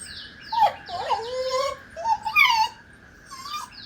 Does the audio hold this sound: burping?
no